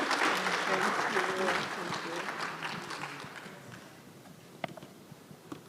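An audience at a university e-learning week event applauds, the clapping strongest at first and gradually thinning and fading, with a few sharp isolated claps near the end.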